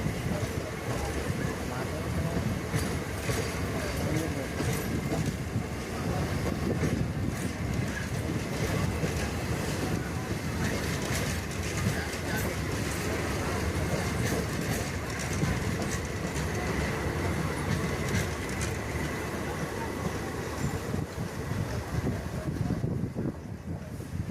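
A MEMU passenger train rumbles steadily past for the whole stretch, a dense, continuous roar with rattling and wind noise, close and loud.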